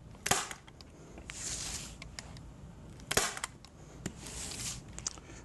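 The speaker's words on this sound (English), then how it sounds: "We're going to take our staple gun, just a light duty staple gun. We're going to hit the center of each side." A light duty staple gun firing staples through stretched watercolor paper, giving sharp snapping clacks at irregular intervals with rustling handling in between.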